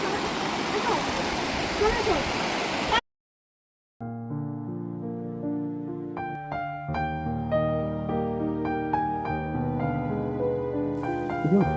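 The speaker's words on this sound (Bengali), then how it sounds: "কামিং নদী এখানে খরস্রোতা, স্রোত খুব সুন্দর" The fast-flowing Kameng River in Arunachal Pradesh rushes loudly and close by for about three seconds, then cuts to silence and music takes over.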